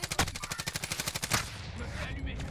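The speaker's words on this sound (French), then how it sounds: "On me tire dessus." Rapid automatic gunfire in Call of Duty: Warzone, aimed at the player, rattling off in a steady burst of about a dozen close, loud shots before trailing into a noisy wash of battle ambience.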